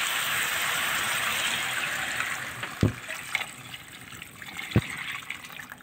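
Water pours into a pot of sautéed mussels with moringa, a steady gushing fill that tapers off and is followed by a couple of sharp knocks from the pot or utensil.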